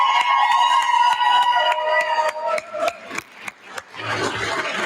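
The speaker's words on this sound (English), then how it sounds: "Let's give them a round of applause." An election-night crowd claps and cheers for winning Democrats; sharp individual claps cut through a held tone before a rougher burst of crowd noise and cheering swells at the end.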